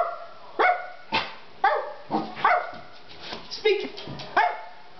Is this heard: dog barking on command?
yes